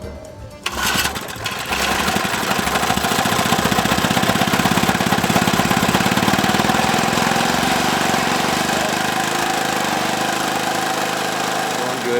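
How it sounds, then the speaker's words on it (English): The small engine of the Gopher Slayer 2000 runs loud and close while pumping exhaust into a gopher burrow, a fast, rattling putter that starts abruptly and holds steady. "all that exhaust is going down in, and the exhaust, that's heavier than air, so it sinks down into their burrow"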